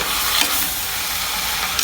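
Cuttlefish curry sizzles steadily in a pan while it is stirred, a close, loud hiss with a few faint scrapes of the spoon.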